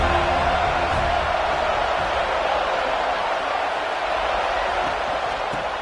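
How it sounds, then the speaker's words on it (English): Stadium crowd noise in a college football video game, a dense, steady roar of a big crowd buzzing after a score, loud and continuous without any distinct cheers or spoken commentary. "this crowd is buzzing after that last score"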